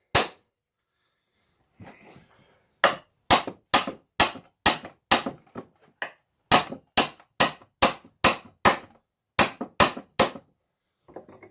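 A hammer taps repeatedly in short, sharp, evenly spaced hits while working a nail out, loud and close, with brief pauses between bursts and no talking.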